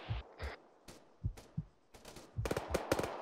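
Light machine gun fire in Arma 3 during a military-simulation firefight: short spaced bursts with deep thuds, then quicker rapid volleys crackling toward the end, moderately distant and no talk.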